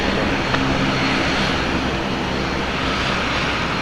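Boeing 737 in fresh paint taxiing at Portland airport, a loud continuous engine whine and rumble that stays steady from start to finish.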